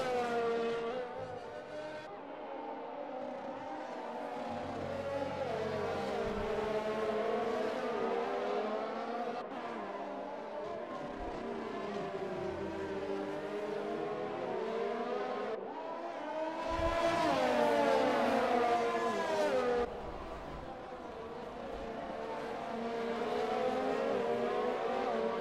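Race cars in a racing video game at Interlagos drone continuously with rising and falling engine pitch as they accelerate and shift, with brief whooshes of cars passing by, loud and sustained throughout.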